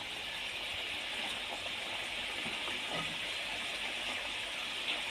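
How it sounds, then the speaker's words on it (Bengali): Water pouring steadily into a pan of simmering curry for rohu-style bata fish, a continuous close gushing splash that runs alone and evenly throughout. "এবার জল ঢেলে দেবো।"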